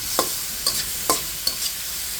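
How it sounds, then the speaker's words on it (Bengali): Koi fish cooking in hot frying oil with potato: a steady, close sizzle broken by four sharp scrapes of stirring, with no voices. "ওই তেলের ভিতরে আলুটা ভেজে অর্ধেকটা উঠিয়ে রেখেছি আর অর্ধেকটা দিয়ে এই যে মাছটা রান্না করে নিচ্ছি।"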